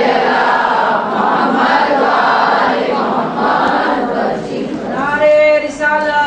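Congregation at a majlis gathering recites salawat together in response, a loud sustained collective chant of many voices, ending in a brief higher rising call.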